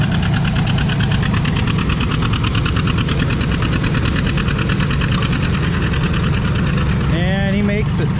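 A John Deere R tractor engine roars loud and steady while pulling a sled on a slippery sponge track, with crowd noise and a brief announcer's voice near the end.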